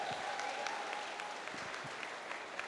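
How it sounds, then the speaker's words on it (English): An audience claps steadily at a horror actor's talk, with fairly soft, even applause that continues throughout and a faint tone early on. "I think it deserves bigger applause than that."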